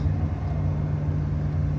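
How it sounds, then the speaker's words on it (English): A truck rumbles past on a mountain road in Bighorn National Park, a steady low engine drone heard from inside a stopped vehicle, with no talking. "There's a truck."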